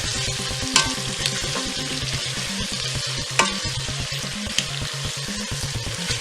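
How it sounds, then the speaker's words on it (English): Baked beans with brown sugar and black pepper are stirred in a hot pot, a steady close sizzle and bubbling under repeated scraping strokes, with a few sharp clacks of the spoon against the side. "We're going to stir that around real nice."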